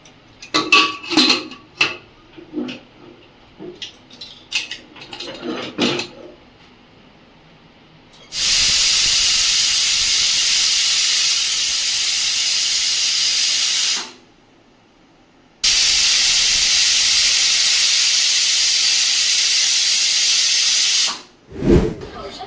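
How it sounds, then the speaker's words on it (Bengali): Pressure cooker on a gas stove cooking mutton curry lets out two long, loud hissing whistles of steam, about six seconds each, after a stretch of lighter kitchen clatter with utensils. "চলো প্রেসার কুকারটা গ্যাসে বসিয়ে 2টো সিটি মারবো"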